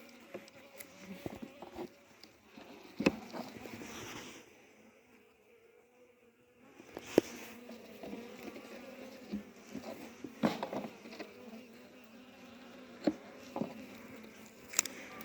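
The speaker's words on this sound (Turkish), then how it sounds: "Arılarımız ön tarafta." Honeybees buzz around the front of a hive in winter, a faint, uneven hum from close by mixed with handling clatter and sharp knocks, plus a brief quieter pause midway.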